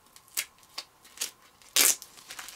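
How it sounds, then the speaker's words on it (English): A strip of duct tape is ripped lengthwise by hand for a no-sew crochet hook case, heard as several short crisp tearing rasps followed by one longer, louder rip, close up and with no talking. "I'm going to take a piece of duct tape, rip it in half"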